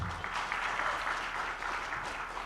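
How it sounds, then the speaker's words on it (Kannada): Audience applause after a Kannada movie trailer at a promotional event for Bank of Bhagyalakshmi, steady moderate clapping from a crowd, somewhat distant and even throughout. "ಇಲ್ಲಿ ಚಪ್ಪಾಳೆ ಕಮ್ಮಿ ಕೇಳಿಸುತ್ತೆ"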